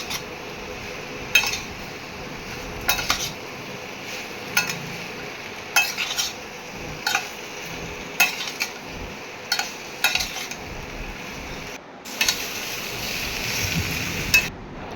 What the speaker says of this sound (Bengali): ভালো করে এর সাথে মিক্স করে কষিয়ে নিতে হবে